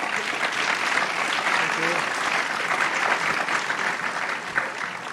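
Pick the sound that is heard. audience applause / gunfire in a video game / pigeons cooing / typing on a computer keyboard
audience applause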